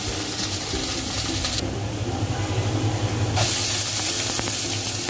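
Whole cardamom, cinnamon and bay leaves stir-fry in hot oil for a chicken korma, giving a loud, steady sizzle and hiss that runs without a break.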